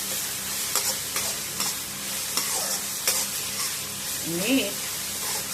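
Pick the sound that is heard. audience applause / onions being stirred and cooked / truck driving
onions being stirred and cooked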